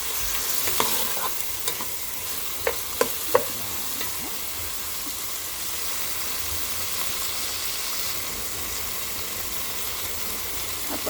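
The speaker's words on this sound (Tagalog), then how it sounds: "Iluluto din natin ang hotdog ng maigi para maluto ng konti." Sliced hotdog fries and is stirred in a pan for pasta-style spaghetti, a steady hissing sizzle broken early by a few sharp utensil clicks against the pan, then an even fry without voices.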